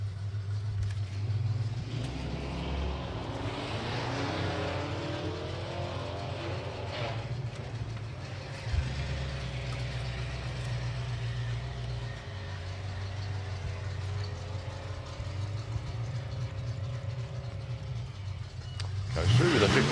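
Classic Tri-Chevy Chevrolet car at a drag strip, its engine holding a steady low rumble close by, with a revving surge near the end; announcer-style talk carries over it.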